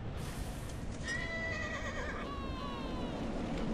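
A horse whinnies in Rollercoaster Tycoon 3, a clear neigh with a falling, wavering pitch lasting about two seconds over a steady background hum, with faint hoof clip-clop.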